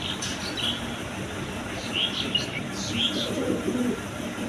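Pigeons sit on eggs at a bird market, their low cooing mixed into a steady crowd murmur with chirps here and there. The calls are soft and continuous, not sharply separated.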